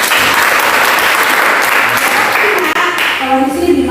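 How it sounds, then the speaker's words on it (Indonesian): Loud, dense classroom applause from students, sustained and close for most of the stretch before thinning out near the end as a voice starts to speak. "Tepuk tangan untuk saya."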